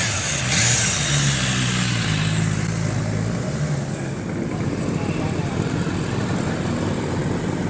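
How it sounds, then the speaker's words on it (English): A Honda RC30 motorcycle engine rumbles past nearby, loud at first and then fading off into the distance, with talk over it. "Rare Beast RC30, being ridden"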